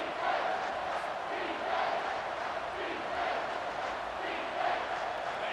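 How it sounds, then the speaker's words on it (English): A large stadium crowd roars steadily in EA Sports College Football 25, a dense wash of cheering that swells and surges without pause throughout. "3rd down, and the crowd really getting into it"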